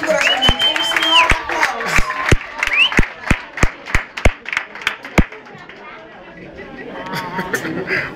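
Scattered audience applause breaks out as individual sharp claps, roughly a dozen loud distinct hits in an uneven rhythm, over background chatter and voices, fading into crowd murmur toward the end.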